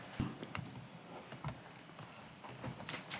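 Keys clatter on a computer keyboard as a channel name is typed into radio programming software for a Baofeng UV-5R, a quick run of light, uneven clicks heard up close against quiet room noise.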